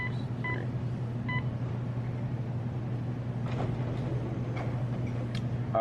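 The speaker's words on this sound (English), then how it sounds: "I'm gonna enter in my phone number" A few short keypad tones from entering a phone number on a Coinme cash kiosk in a Walmart, faint over a steady low hum of store noise.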